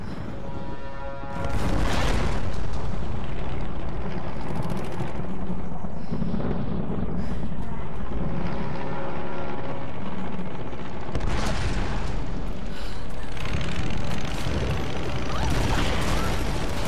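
A big explosion in Tomb Raider (2013) booms and crashes, followed by sustained roaring debris and rumble, loud and dense, with a second blast surge later.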